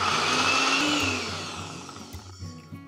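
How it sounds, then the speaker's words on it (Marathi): A mixer grinder whirs loudly, blending a quarter cup of garlic into paste, its motor holding steady at first, then winding down and rattling in uneven bursts as the blades slow near the end. "सगळ्यात आधी मिक्सरच्या भांड्यामध्ये पाव कप लसूण घ्यायचं आणि आधी याची ना छान पेस्ट"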